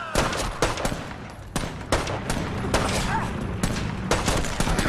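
Gunfire in a Thai-dubbed commando sniper mission of Brothers in Arms 3, with repeated sharp shots and bursts crowding a loud, dense battle mix, while voices talk over the action.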